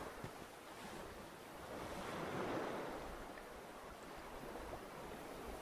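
Lake water lapping in the Dark Souls video game, a faint, low washing rumble with wind-like texture that swells gently in the middle and recedes, no voices.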